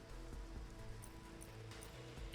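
Steady rain patters in the CloudPunk game world, a faint even hiss of drops with soft low musical tones underneath.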